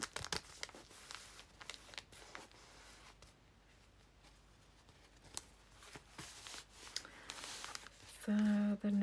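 Tracing paper sewn with printed text crinkles and rustles as journal pages layered with textile are handled, a series of close, crisp rustling bursts with a faint voice underneath, ending in a brief loud tonal hum.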